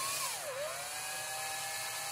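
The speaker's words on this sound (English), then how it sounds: "So we'll have that little hole drilled through the center of the golf ball." A drill bores a hole through the center of a golf ball, a high whining tone that dips as the bit bites in, then steadies into a constant buzzing whine outdoors, with no talking.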